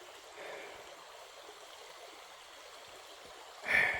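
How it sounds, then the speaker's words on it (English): A small creek flows steadily beside a forest hiking trail in Tennessee's Big South Fork, a faint, continuous watery hiss with a brief louder splash near the end. "Right here beside the creek."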